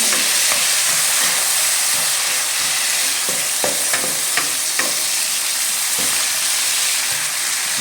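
Onion sizzles loudly in hot oil in a pan, a steady frying hiss with scattered scraping clicks and knocks from the stirring utensil, close up and without talk.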